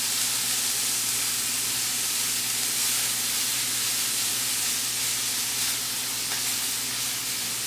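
Steak fries in oil in a pan, a steady close hiss and crackle of sizzling fat that holds even throughout without pause.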